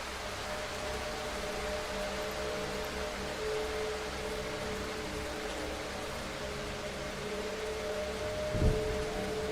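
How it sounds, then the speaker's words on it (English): Steady rain falls in the horror video game Darkwood as a dense, even hiss that lasts throughout, with a low tonal drone beneath and a brief thump near the end. "I wish it wasn't raining."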